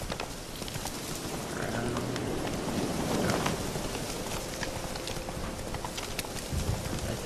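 A horse gallops in the video game The Witcher 3, hoofbeats thudding in a fast continuous rhythm over wind and rain-like ambience, moderately loud with no talking.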